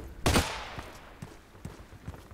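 Shotgun fire in a video game, one loud close blast followed by a few fainter, scattered thuds and shots.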